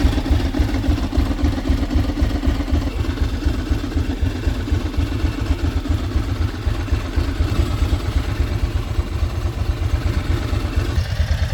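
A 25-year-old Ducati MH900E motorcycle engine runs at a steady, close idle with a loud, even, throbbing beat that holds unchanged throughout, with no voices.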